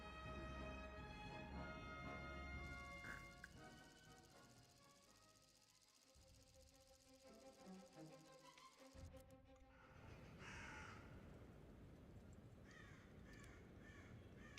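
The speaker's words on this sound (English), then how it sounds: "there's actually crows in the game making those noises" Crows cawing inside an American ground forces battle video game, repeated harsh caws heard over a dense, loud layer of game ambience and rumble, with no talking.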